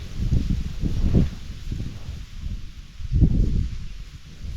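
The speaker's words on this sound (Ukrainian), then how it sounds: "Ну, вітер такий." Gusts of wind buffet the microphone in low rumbling surges that swell and fade, with no voices present.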